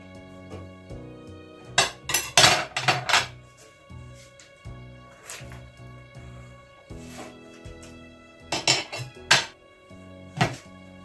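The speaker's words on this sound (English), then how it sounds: "And then I cut my butter in half." Knife cutting a block of butter in half in a home kitchen while baking muffins, clustered knocks and clinks of the blade against the board and dish, close by, with no talk.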